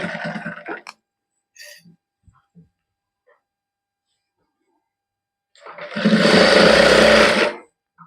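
A household sewing machine stitching down a folded edge on a homemade warm undershirt: one loud sustained whirring run of about two seconds, after brief talk and scattered small handling clicks.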